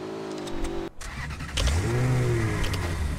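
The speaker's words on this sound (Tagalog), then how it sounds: "Oh, may kotse dun oh." A car engine in a squad shooter video game revs up after a brief cutout, rising in pitch with a deep droning tone and a loud, close whine.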